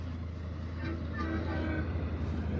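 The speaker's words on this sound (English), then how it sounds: "Let's see if we can get him to honk." A tanker truck blows its horn on the interstate, a weak, brief toot rising over steady, loud highway traffic rumble and passing vehicle noise.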